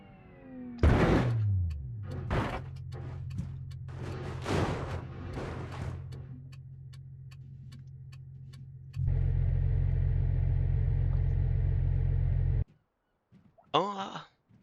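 A rollover crash test in BeamNG: an engine idles under a series of sharp impact bangs and clatters, then revs loudly and steadily for a few seconds before cutting out, followed by a brief final burst.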